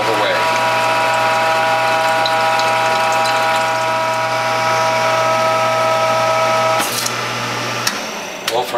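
A Norwalk hydraulic juicer presses French sorrel, giving a steady mechanical whir and pump-like hum with ratcheting tones, loud and close, ending in a few brief clunks.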